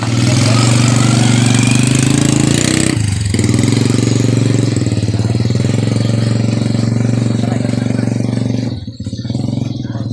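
A motorbike engine hauling building materials for a mosque idles and runs loud and close, a steady rumble that dips briefly near the end.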